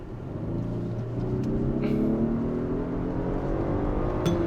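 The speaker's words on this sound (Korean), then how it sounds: "심지어 주행 모드를 스포츠로 해놓고요, 킥다운을 하잖아요." Inside a 2023 Genesis G90 with an electric supercharger, a sport-mode kickdown sends a smooth, steadily rising engine drone and whine through the cabin, loud and continuous without talk.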